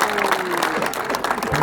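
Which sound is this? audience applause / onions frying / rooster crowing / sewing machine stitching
audience applause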